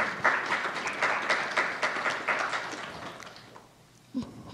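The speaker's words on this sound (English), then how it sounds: "Big round of applause." An audience at the closing ceremony of a seven-week Kathopanishad course claps, a dense, steady round of applause that tapers off near the end.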